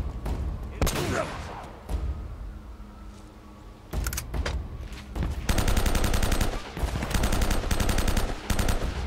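Sniper rifle gunfire rings out in the Uncharted: Drake's Fortune video game, loud sharp shots amid rapid automatic bursts and a sustained volley of gunfire later on, close and dense with little pause.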